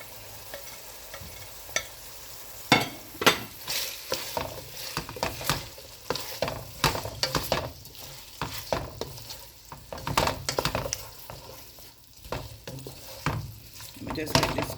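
Salt mackerel run down, Jamaica style, sizzles in a pot while being stirred, with a steady frying hiss and irregular scraping stirs close by, no voices.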